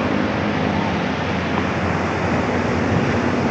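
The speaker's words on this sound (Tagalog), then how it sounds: "Lakas ng agos ng tubig." A strongly rushing river on Mount Banahaw, swollen after recent rain, roars continuously, a dense steady wash of noise with no pauses.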